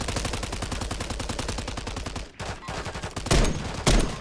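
Rapid automatic gunfire in a video game, a dense close burst of evenly spaced shots for about two seconds, then a pause and two heavier single blasts.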